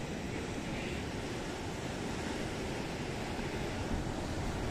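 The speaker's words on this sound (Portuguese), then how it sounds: "Aí vem a onda do mar, olha que coisa linda" Sea waves breaking on the rocky shore of Morro de São Paulo, a steady broadband wash of surf that fills the whole stretch without pause, with a slight surge near the end and no talking.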